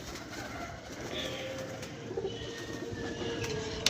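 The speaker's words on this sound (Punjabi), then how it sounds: "ਕਬੂਤਰ ਬੜੇ ਨੇ" Pigeons cooing at a pigeon-keeping spot, soft repeated low coos over a steady noisy background, with a few faint higher bird calls; no voices.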